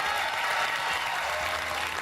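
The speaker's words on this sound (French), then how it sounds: "On applaudit les verts." A studio audience applauds loudly and steadily on a television game show, dense clapping filling the whole moment without pause.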